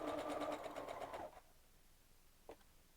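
A sewing machine stitches fabric in a quick, even whir for about a second before stopping, followed by a faint brief click in a quiet room.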